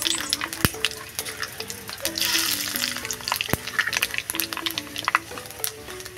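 Panch phoron seeds crackle and sizzle in hot oil with dried red chilli, a busy spattering hiss broken by sharp pops and a few clinks, with a faint tonal background running underneath.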